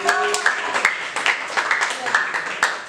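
A classroom of Indonesian teachers at a training session claps for an answer, a brief burst of scattered hand claps at moderate distance that tapers off over a few seconds.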